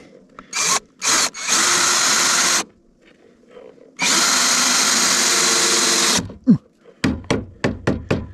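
Power drill driving 3-inch screws into wooden rafters, with two short bursts then two long sustained whirring runs, followed by sharp knocks and taps of the wood.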